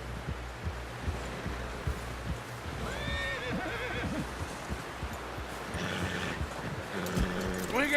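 A horse neighs and whinnies in the Red Dead Redemption 2 game, with hooves clip-clopping and rustling around it, near and moderately loud amid a tense scene.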